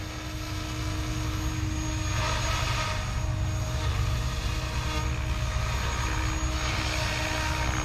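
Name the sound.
remote-control helicopter hovering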